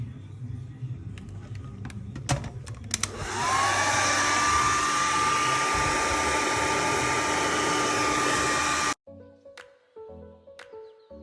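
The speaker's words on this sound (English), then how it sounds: "And then I'm going to blow dry it." Hair dryer blow-drying dyed ostrich feathers switches on with a rising whine into a loud, steady close-up whoosh for several seconds, then cuts off, followed by faint handling clatter.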